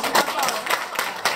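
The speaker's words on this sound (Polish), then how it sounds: "Brawa." Applause from an audience at a culinary competition final in Bychawa, Poland: steady clapping over 1.4 seconds, moderately loud with a few sharper claps.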